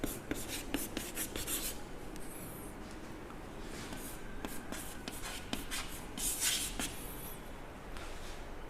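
A pen scratches on paper while drawing a chemical structure, with quick close strokes and short pauses, soft and steady with no talk.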